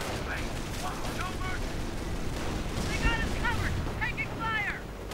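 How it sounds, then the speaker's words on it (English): Mortar rounds strike an anti-tank gun in a war video game, with rumbling explosive booms and crackling battle noise under continuous talk. "Mortar rounds on the anti-tank gun."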